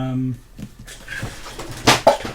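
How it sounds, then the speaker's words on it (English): A workshop drawer is handled roughly and nearly dropped, giving a couple of sharp wooden knocks and scraping thuds near the microphone, preceded by someone talking. "almost dropped the drawer"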